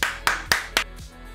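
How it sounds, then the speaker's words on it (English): Four sharp, evenly spaced hand claps land close by, each cutting off quickly and leaving a brief quiet tail at the end. "Let's give him a round of applause for that."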